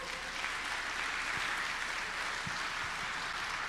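Church congregation applauding during a Spanish-language service, a steady wash of clapping from a large room heard at moderate distance, continuous without breaks.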